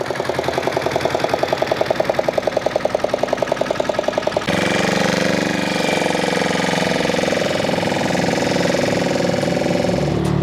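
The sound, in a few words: motor boat engine running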